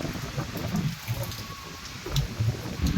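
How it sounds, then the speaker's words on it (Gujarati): Dense rain pours steadily, with low rumbling patter and splashes on surfaces close by, continuous throughout. "જો ફૂલ વરસાદ આવી ગયો જો"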